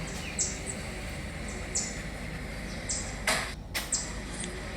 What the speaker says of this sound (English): Birds are back. I can hear them.